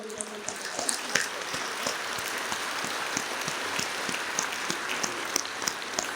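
An audience seated under a pandal claps at a Hindu religious discourse, a continuous fairly loud patter of many hands with sharper individual claps standing out and no voices over it.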